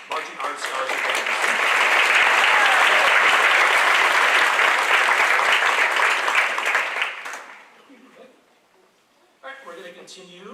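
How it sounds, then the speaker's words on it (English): Loud sustained applause from a concert audience honoring marching arts scholarship winners at a wind ensemble concert and senior awards night, lasting about seven seconds before fading, followed by faint talk. "Another round of applause for our marching arts scholarship winners."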